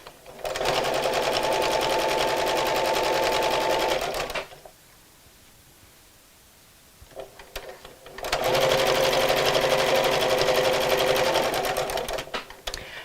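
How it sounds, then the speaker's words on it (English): A sewing machine stitches fabric in two loud, steady runs of rapid mechanical chatter, close by, separated by a pause of several seconds while the needle is left down to pivot at a corner. "stop with your needle in the down position so you can pivot this around and carry on sewing"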